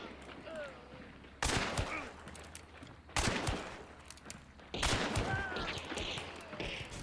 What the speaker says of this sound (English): 3 shots in a row, bang, bang, bang, perfect robotic accuracy